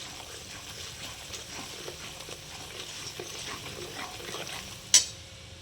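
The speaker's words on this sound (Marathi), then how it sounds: "आता हे चांगलं मंद आचेवरती भाजायचं बेसन." Gram flour (besan) dry-roasting in a pan on low heat for Sindhi kadhi, a soft continuous rustle and faint sizzle with gentle stirring, ending in a brief sharp clink.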